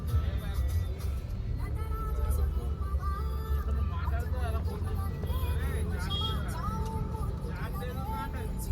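Steady road noise and engine hum from a vehicle cruising along a ring road early in the morning, heard from inside under continuous talking.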